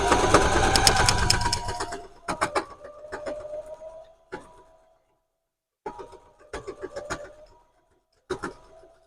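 A sewing machine stitches a straight seam down a rag quilted journal cover in a loud whirring burst, followed by scattered short mechanical clicks and brief stitching stops with quiet gaps between them.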